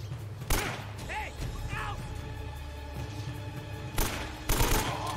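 Gunfire in the video game Uncharted: Drake's Fortune: a sharp shot early on, then two heavier blasts close together near the end, loud and near, with a voice talking between them.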